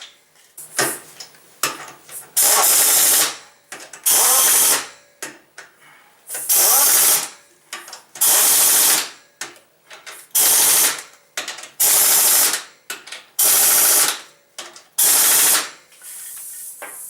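A ratchet snugs the wheel nuts on a fourth-generation Firebird Trans Am fitted with C6 Corvette wheels. It runs as a repeated series of loud, close, rapid clicking bursts, each lasting about a second, with short pauses between them.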